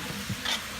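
Cabbage and broccoli stir-fried in a pan, a soft steady sizzle with a brief scrape of stirring near the middle, short and quiet with no voices.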